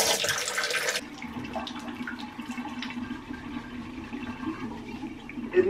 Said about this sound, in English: Justin is going to wash out this bullshit.